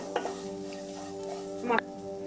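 Masala spices fry in a pan with a soft sizzle and two distinct scraping stirs of a spoon against the pan, all brief and close.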